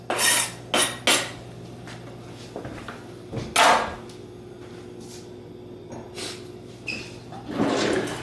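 Ingredients tossed into a hot pan, with a few sharp scraping and clattering bursts of metal on cookware early and late, over a steady low hum and quiet sizzle in between.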